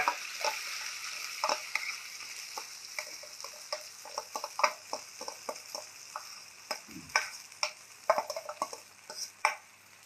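Ground brinjal chutney fries in a tempering. A soft, steady sizzle sits under frequent clicking and scraping strokes of a spoon against the pan, with a few louder knocks near the end.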